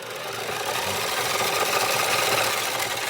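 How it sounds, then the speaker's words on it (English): A Beyblade motor strike battle stadium spins counterclockwise, giving off a steady, fairly loud motorized whir and rubbing hiss that holds evenly without a break. "So I'm going to make the stadium spin counterclockwise for this matchup"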